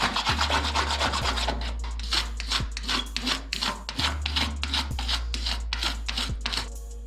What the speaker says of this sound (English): come back and just scrape it off with the razor blade